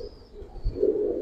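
A Palla-line Giribaz pigeon at the loft gives a single soft, low coo, close by in a quiet moment with no talking.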